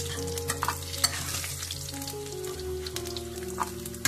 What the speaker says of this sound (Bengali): এই সামান্য একটুখানি নারকল নুন আর হলুদ দিয়ে ভেজে নিচ্ছি